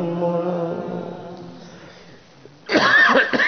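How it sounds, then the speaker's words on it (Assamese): A man reciting a religious discourse on the Varaha avatar breaks off his chanting and gives a short, loud, close burst of harsh coughing. "কাহটো অকণমান দিগদাৰ কৰিছে মাজে মাজে"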